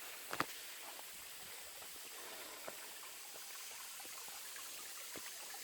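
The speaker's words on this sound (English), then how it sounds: "This is the creek channel." A creek in the Sipsey Wilderness flows with a soft, steady wash and faint trickling, distant and low, broken by a couple of brief nearby clicks.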